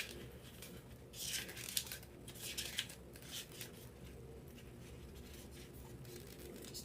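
Scissors snip a piece off a Dollar Tree pumpkin with a few close, crisp cuts in quick succession, followed by softer handling rustle.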